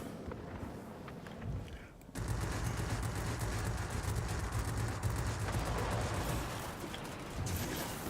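Rapid gunfire rattles in Tironan's Unfriendly Skies around a Yak 30, a sudden burst that turns into a dense, continuous crackle over steady engine noise and keeps going to the end.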